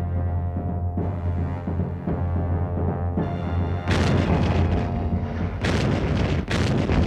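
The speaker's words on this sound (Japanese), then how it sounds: "アメリカ連合艦隊の主力艦から沖縄本島に向け猛烈な艦砲射撃が開始" Heavy naval gunfire as American warships bombard Okinawa during World War II, a continuous roar of booming blasts and rumble with louder bursts, recorded with crackly, wind-buffeted noise.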